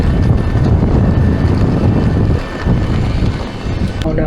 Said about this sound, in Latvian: Augsts ziemeļu vējš. Pūš.